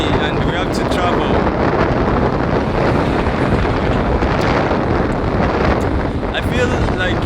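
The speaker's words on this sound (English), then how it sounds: "it's so windy and we have to travel" Strong wind buffets the microphone in a continuous loud roar with gusty rumbling throughout, and a voice may be faintly present under it.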